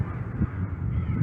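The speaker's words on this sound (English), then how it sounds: "Angry geese." Winter geese honking at a frozen lake. Brief, moderately loud honks against a steady outdoor background.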